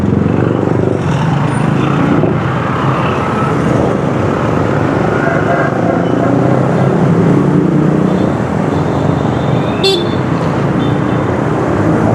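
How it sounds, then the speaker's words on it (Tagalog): Rush-hour traffic in Manila: a steady, dense roar of cars and engines fills the scene, with a brief car horn toot near the end. "Kaya yung traffic dito, grabe."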